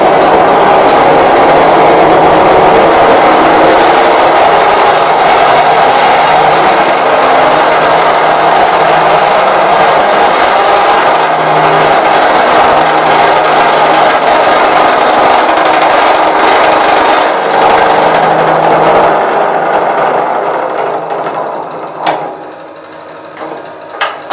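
Wood lathe hollowing a vessel through its bottom, a loud, continuous whirring and grinding roar with a rough, scraping texture that holds steady, then winds down and fades near the end.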